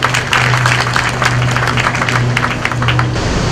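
Crowd applause at a workers' rally, dense, loud and steady throughout, with a sustained low hum underneath.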